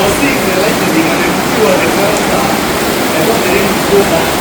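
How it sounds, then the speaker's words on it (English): Heavy rain pouring down during a road trip in Cameroon, a loud, constant hiss of downpour with no letup, a voice faintly audible beneath the rain. "So it's raining. It just started raining."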